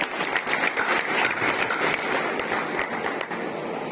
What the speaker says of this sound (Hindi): एक बार जोरदार तालियां इनके लिए आपने है